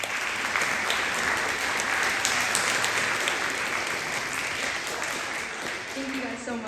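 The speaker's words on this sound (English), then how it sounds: "So can we please give them a big round of applause?" High school students give visiting guests a big round of applause, a steady wash of crowd clapping with voices mixed in that fades slightly toward the end.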